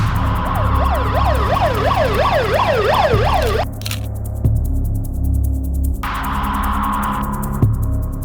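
A wailing ambulance siren sweeps up and down rapidly, then shifts to a steadier tone, loud and continuous over road noise.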